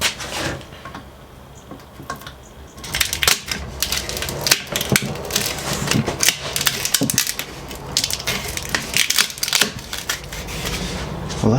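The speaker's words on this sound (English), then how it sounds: "I've just double-sided taped this, which should peel off all right." A wooden piece is pried off double-sided tape on a workbench, giving irregular sharp cracks, creaks and splintering snaps that grow busier after a quieter start, close and with no talk.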